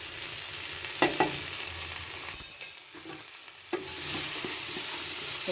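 Vendi masala with green chillies and amchur powder frying in a pan, a steady close sizzle broken by spoon scrapes and clatters, a brief lid rattle and a moment where the frying dulls under a cover, with no talk.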